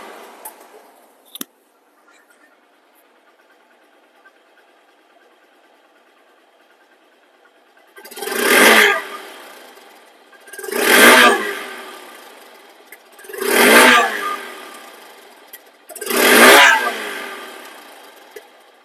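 A 2023 Hero Hunk motorcycle idles quietly, then revs hard four times in an even rhythm. Each rev is a loud, close surge that swells and falls back to idle.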